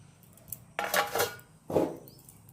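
A cooking pot covered with its lid while boiling eggs, in a kitchen making Rangpur-style egg telani: a few close metallic clanks and scrapes, two louder clattering bursts with a brief pause between, no talking.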